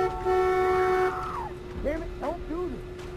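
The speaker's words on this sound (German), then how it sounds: "Wir haben keinen Key. Aber die Hupe." A car horn honks in The Walking Dead video game, a long sustained blare followed by several shorter warbling toots, loud and close with a voice talking in between.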